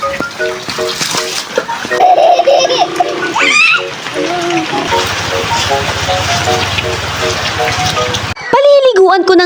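Rain pours and splashes steadily while young children play and bathe in it outdoors, their voices chattering and squealing over the hiss of falling water.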